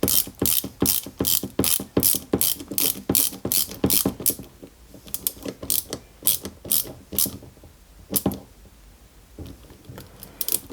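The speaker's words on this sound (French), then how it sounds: "on essaie de serrer au maximum" A small screw is ratcheted tight into the suspension of a 1/8 scale Toyota Supra model. Rapid, close clicking comes in quick bursts, then slows into sparser clicks with short pauses, with no speech.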